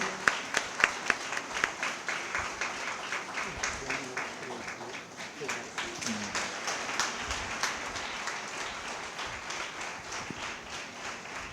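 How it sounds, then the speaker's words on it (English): Sustained audience applause at a book release event, dense steady clapping from a crowd with a few sharper nearby claps, moderately loud throughout. "Clap for him, please. Clap for him."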